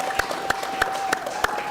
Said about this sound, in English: His mother and father can clap a little bit.